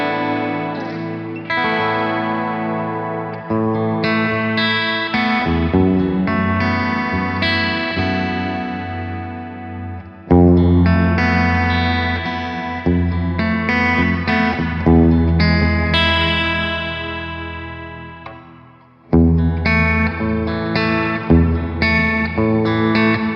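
An electric guitar runs through a Halo effects pedal with heavy distortion, ringing out loud, sustained chords and notes with echoing tails. Hard attacks restart the sound near the ten- and nineteen-second marks.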